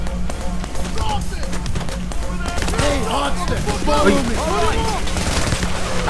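Rapid bursts of gunfire and automatic weapons in the video game PAYDAY The Heist, with running footsteps and other game noise, heard under loud excited talking.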